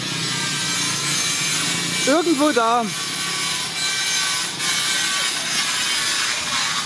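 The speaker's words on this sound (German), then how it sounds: "flext jemand an dem Metall rum." An angle grinder cutting metal at a dark night construction site in Bali sends a continuous high whine and hiss from a distance, with a brief voice speaking partway through.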